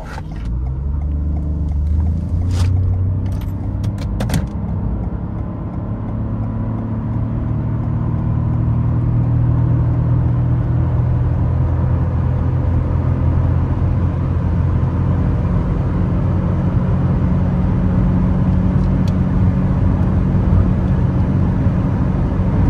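Toyota Yaris Cross Hybrid in power mode accelerating from 0 to 100 km/h, its engine holding a loud, steady droning roar with no gear-shift breaks, joined by wind and road noise for the whole run.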